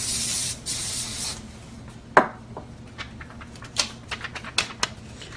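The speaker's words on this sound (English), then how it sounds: "you could put a little bit of spray on if you wanted" A few short hissing bursts of aerosol spray on MDF car coasters, the first longer, followed by several quick puffs with small clicks between them, close and fairly loud.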